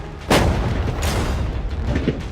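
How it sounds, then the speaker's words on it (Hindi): Gunshots fired at a container holding money, two sharp loud booming reports about a second apart, with fainter rumbling afterward. "पहले बाकी शॉट्स फायर कर लेते हैं"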